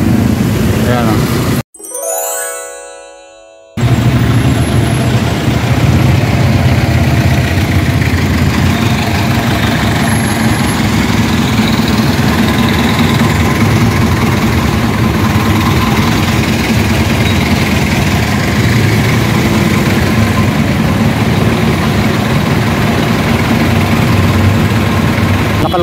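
A motorcycle engine runs in a loud, steady drone on a long road ride, with a brief dropout early on and constant wind and road rumble throughout.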